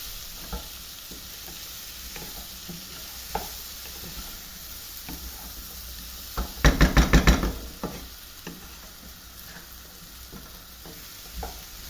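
Ingredients for a vegetable dal fry in a pan with a steady close sizzle, while a spoon scrapes and stirs in scattered knocks and a quick burst of rapid clatters partway through.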